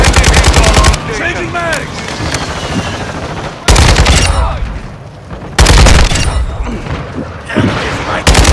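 Video game gunfire comes in loud, dense bursts of rapid automatic shots that cut in and out between quieter stretches, with voices shouting underneath.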